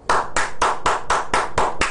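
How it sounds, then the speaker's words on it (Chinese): Applause in honor of a stock-trading teacher: about seven loud, evenly spaced hand claps in a steady rhythm, close and clear with no talking. "我们要给他掌声。"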